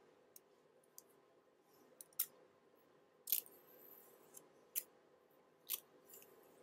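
Scissors thinning and chopping synthetic wig hair, giving a series of sharp, close snips spaced irregularly over a faint steady background hiss, with no talking.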